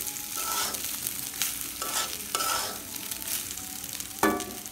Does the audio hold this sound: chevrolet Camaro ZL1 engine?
no